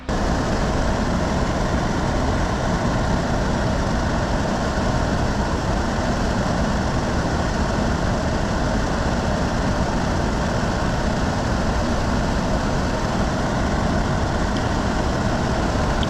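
A DREO portable air conditioner runs with a loud, steady whooshing roar and low hum, constant throughout and heard up close.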